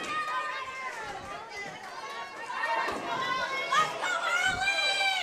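Loud, dense crowd chatter and cheering fill a high school bowling match between St. Marys and Wapakoneta, a steady noisy roar with rising bursts of voices throughout.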